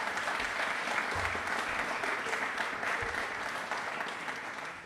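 Loud, sustained audience applause fills a Republic Day quiz programme hall, a thick continuous wash of many hands clapping that fades slightly toward the end, with no talking.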